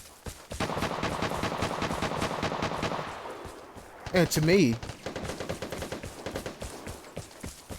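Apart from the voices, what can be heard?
gunfire in a video game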